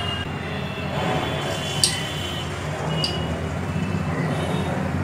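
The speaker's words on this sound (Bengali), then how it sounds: "এবার আমি ফ্লেমটাকে একেবারে লো করে দেবো, আর ছানার জিলাপিগুলো এইবার ধীরে ধীরে ভাজতে দিয়ে দেবো।" Chhanar jilapi, Bengali chhana sweets, frying slowly in oil over a very low flame, giving a steady, dense sizzle that holds even throughout with a couple of faint clinks.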